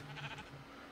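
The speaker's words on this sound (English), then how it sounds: "Black sheep? Wow, there are a lot of black sheep today." A sheep bleating in the Minecraft video game, a faint short wavering bleat early on over quiet background, with no talk.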